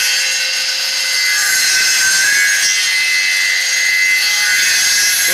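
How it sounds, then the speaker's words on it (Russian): Wood being cut on a homemade template copying machine, the blade following a mounted pattern. A steady, loud, continuous high-pitched saw whine holds without a break throughout, with no talking. "И вот устанавливаю шаблон и по нему пилю."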